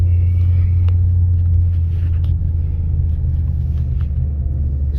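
A 2013 Ford Mustang with a 5.0L engine on a test drive gives a steady, heavy low rumble throughout, loud and constant from inside the car, with no talk.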